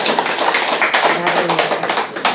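Audience applause in a lecture hall, a dense, close patter of many hands clapping at once, with a voice faintly over it.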